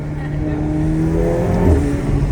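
A McLaren 720S engine revs and blips during downshifts on a night drive, heard from inside the cabin as a steady, loud roar with rising pitch near the end; a voice may be present underneath.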